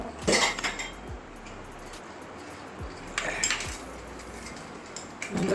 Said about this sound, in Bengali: এবারে ঢাকনাটা বন্ধ করে দেবো এবারে ঢাকনা লাগিয়ে দেবো